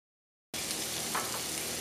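Small onions softening in a frying pan give a steady, close sizzle that begins abruptly after half a second of silence and holds evenly, with a faint stirring scrape midway and no voices.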